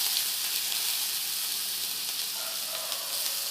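Crushed ginger and garlic sizzling in hot oil with cumin for fish head curry, a steady close hiss and crackle of frying heard alone, fairly soft and even throughout.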